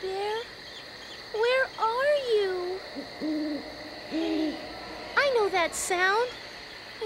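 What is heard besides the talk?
owl hooting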